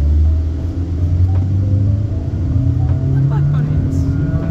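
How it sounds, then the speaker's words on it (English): A Honda BR-V carrying four people under full-throttle acceleration: a loud, steady low engine drone and road rumble heard from inside the cabin, with voices talking over it. "Okay, so acceleration test with four people."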